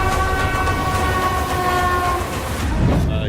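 A train rumbles past at a railway station with a sustained horn blaring over the rolling rail noise, loud and close, fading slightly at the end.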